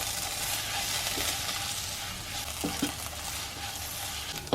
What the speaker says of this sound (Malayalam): ഇനി നമുക്ക് മസാലയുടെ പച്ചമണം മാറുന്നവരെ നമുക്ക് നന്നായിട്ടൊന്ന് ഇളക്കാം.